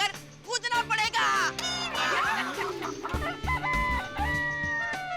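People imitate a rooster crowing, drawn-out warbling cock-a-doodle-doo calls and clucking sounds made by voice, several overlapping imitations in quick succession, loud and close.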